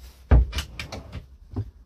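A cupboard door in a compact Mc Louis MC4 231 camper van thumps shut loudly up close, followed by a few softer knocks and clicks as it settles.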